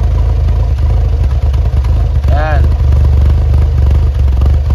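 Car engine idling roughly with a misfire, a steady low chugging uneven rumble with choppy beats, heard up close behind the vehicle while someone talks over it.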